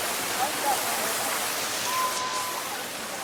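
The Baahubali waterfall along the Tirumala walking route sends up a steady, broad rush of falling water that fills the whole clip, with faint voices in the background.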